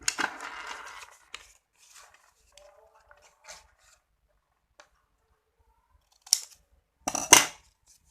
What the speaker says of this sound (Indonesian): maka yang ini kita gunting